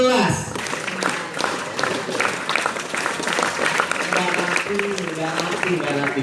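An audience claps together in a patterned rhythm during a Ramadan religious lecture, producing dense crowd clapping with a voice audible over it.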